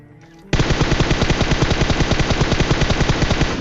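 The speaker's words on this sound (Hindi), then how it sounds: "देखो तुम्हारा भाई जैसे वहाँ पे स्मोक होता है कैसे फायर करता है।" Sustained full-auto gunfire in a shooter video game, fired into a cloud of smoke: a loud, steady, rapid stream of shots starting abruptly after a short quiet lead-in and continuing unbroken to the end.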